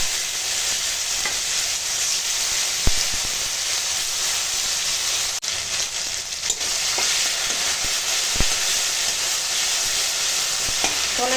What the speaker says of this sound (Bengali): এবার দিয়ে দেবো এই ধনে আর জিরে বাটা